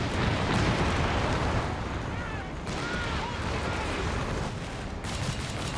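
Battle noise from Company of Heroes 3, a 4v4 match with a Stuart tank hunting a Tiger: dense, continuous gunfire and explosion rumble with sustained loud bursts and a couple of brief dips in intensity.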